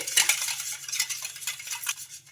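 Milk batter and yeast are whisked in a bowl, quick scraping and clinking of a spoon against the sides in close, busy strokes, loud at first and tapering off, with no one speaking.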